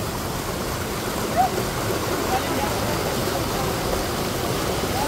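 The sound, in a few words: strong river current at Colasi Falls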